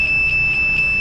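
Steady high-pitched electronic beep from a measuring device probing a shorted phone circuit, a continuous loud tone pulsing slightly, alone without talk.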